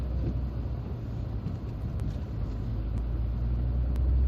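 A 2012 MG6 1.8 Turbo driving through town, a steady low engine and road rumble heard from inside the cabin, continuous and fairly even with no talking.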